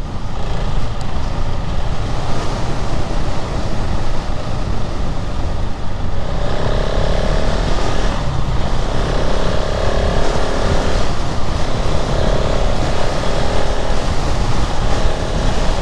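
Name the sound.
KTM 690 Enduro R motorcycle at 100 km/h in side wind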